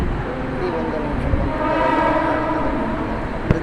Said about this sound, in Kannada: ನೋಡಿ ಯಾವ ಥರ ನಮ್ಮ ಟ್ರೈನ್ ಕ್ರಾಸ್ ಮಾಡ್ತಾಯಿದೆ